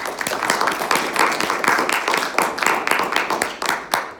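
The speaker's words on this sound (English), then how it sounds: "We give Cindy a round of applause." Audience applause at a campaign meet and greet, a steady patter of many hands clapping at moderate volume for about four seconds, with no talk over it.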